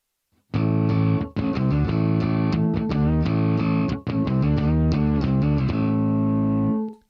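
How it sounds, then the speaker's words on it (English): Bass guitar played through a Neural DSP Quad Cortex on a 12-string bass preset with the effect bypassed, a run of clear, sustained plucked notes and chords, loud and close, briefly cut off once midway before ringing out to the end. "I can bypass that as well, so you can hear what that would sound like."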